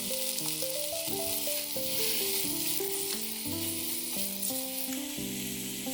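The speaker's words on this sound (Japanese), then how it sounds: "玉ねぎとズッキーニを加えます。" Onion and zucchini sizzle with chicken thigh in a pot of olive oil and garlic, a steady close frying hiss that runs throughout beneath a melodic music track.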